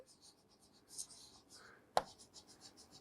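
Marker or chalk writing on a board during a biology lesson, a soft scratchy stroke pattern with a sharp tap near the middle, quiet and close with no talk over it.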